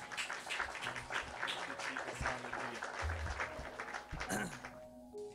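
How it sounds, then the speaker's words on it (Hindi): A church congregation bursts into a sustained round of loud clapping, dense and continuous, with a voice speaking over it. "परमेश्वर के लिए जोर से ताली बजा सकते हैं आप।"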